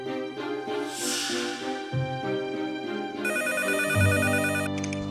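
A phone rings with an incoming call on a Chinese televised dating show, an electronic ringtone sounding repeatedly over music and stage ambience, growing brighter and louder partway through.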